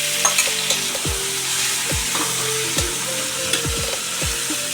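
Tomatoes sautéing with garlic and onion in a pan, a constant loud sizzle broken by a series of wooden scraping and stirring knocks at a steady pace.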